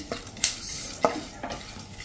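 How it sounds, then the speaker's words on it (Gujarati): A spoon scrapes and stirs pumpkin and sunflower seeds roasting in a pan a few times, with soft dry rattling and a faint sizzle between the strokes. "હવે પમ્પકિન સીડ અને આપણે સનફ્લાવર સીડને મિક્સ કરીને જ શેકી લઈએ."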